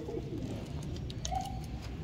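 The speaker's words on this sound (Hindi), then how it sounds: "ये चौधरी वाला कबूतर है, ये देख चौधरी वाला कबूतर है" A pet pigeon coos softly nearby, a low throaty murmur running through a steady background hum, with no one speaking.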